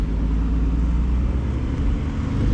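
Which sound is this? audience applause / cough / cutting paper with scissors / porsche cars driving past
porsche cars driving past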